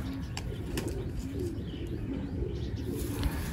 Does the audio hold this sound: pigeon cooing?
yes